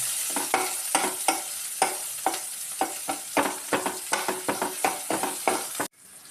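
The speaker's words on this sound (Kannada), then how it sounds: "ಈಗ ಸ್ವಲ್ಪ ಈರುಳ್ಳಿ, ಟೊಮೆಟೊ, ಹಾಕ್ಕೊಂಡು ಸ್ವಲ್ಪ ಫ್ರೈ ಮಾಡೋಣ" Onion and tomato frying in oil in a pan for a black-eyed bean masala curry, with steady sizzling and repeated stirring scrapes in a quick rhythm, close and alone, ending abruptly.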